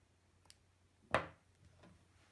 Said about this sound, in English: then I'm going to cut the thread